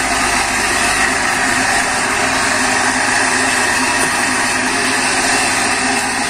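A cream separator machine, used to separate cream from milk, runs with a steady, unbroken high-pitched motor whine and hum throughout, loud and close, with no talking.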